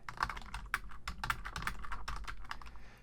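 Computer keyboard keys tapped in a quick irregular sequence of close, soft clicks over a few seconds, with no talking.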